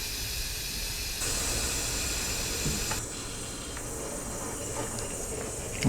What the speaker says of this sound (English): The pressure is almost completely released.